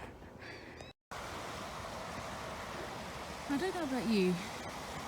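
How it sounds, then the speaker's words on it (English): Running water flowing over rocks, a steady close rushing and babbling wash throughout, with a person talking over it and a brief bird-like chirp near the end. "I actually find the sound of running water over the rocks and that very calming"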